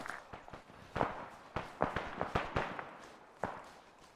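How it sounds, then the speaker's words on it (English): Distant gunfire in ARMA, a scatter of quick sharp cracks and pops, some in short bursts, faint and irregular against quiet background noise. "There's a lot of shooting still going on down there."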